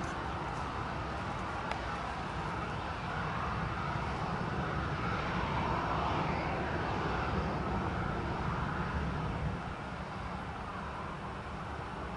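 Ryanair airliner EI-DWF takes off at LEVC, a steady broadband jet roar that holds at an even loudness for about twelve seconds and eases slightly near the end.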